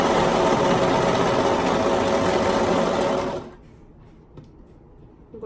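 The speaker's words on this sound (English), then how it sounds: "create a loop by serging or stitching the short edges together" A serger or sewing machine stitches the short fabric edges together in a loud, steady, close whir that runs for about three seconds, then stops abruptly, leaving faint handling noises.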